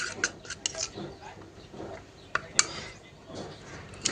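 A spoon clinks and scrapes against a bowl while flour is stirred into ghee, giving light metallic taps and soft mixing sounds at close range.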